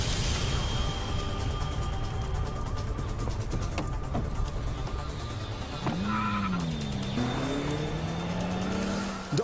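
A hijacked Hyundai car speeds away loudly, its engine roaring over a dense, constant background of noise, with a rising and falling tire squeal near the end.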